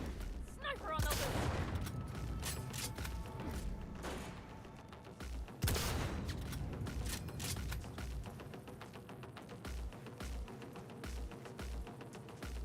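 Rapid gunfire bursts and shots from a Cyberpunk shootout, loud and sustained over about thirteen seconds, with heavy thumps mixed in and game voices shouting beneath the firing.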